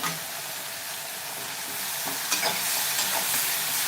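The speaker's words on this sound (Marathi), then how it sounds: "तर बघा तुम्ही मसाला चांगला असा भाजून झालेला आहे" Masala with grated tomato fries in a pan for bhindi masala, a dense, close sizzle with steady stirring and scraping that grows a little louder and busier in the second half.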